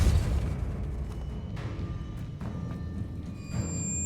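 Bombarda blast spell in Hogwarts Legacy, a loud booming explosion with a rumbling low tail that rolls on for several seconds, with faint tonal game sounds underneath.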